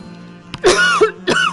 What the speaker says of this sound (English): I really have enough of the coughing